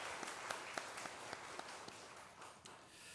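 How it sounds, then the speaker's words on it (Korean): A church congregation gives a sparse round of applause, distinct claps at an irregular, moderate pace that fade toward the end, quiet and heard from some distance. "다시 한번 박수하겠습니다."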